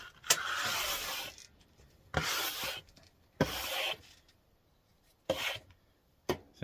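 Brushing excess wax off a ski during basic ski waxing: short bristly rubbing strokes in five bursts of a second or so, separated by brief pauses, close and moderately quiet with no talk.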